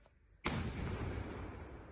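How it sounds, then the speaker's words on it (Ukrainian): A single sharp shot from an SPG anti-tank grenade launcher on the front line near Kreminna, with a sudden loud blast followed by a long rumbling decay, heard from a distance. "Постріл."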